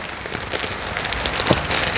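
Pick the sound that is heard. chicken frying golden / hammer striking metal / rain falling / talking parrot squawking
rain falling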